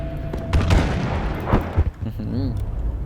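Rapid gunfire and booming blasts from the Battlefield V video game, several sharp close shots clustered early with heavier booms following and a faint whistling tone near the end.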